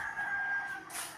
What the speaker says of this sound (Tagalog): Mga alaga ko po yung mga nag-iintay na. Yan. Mga manok.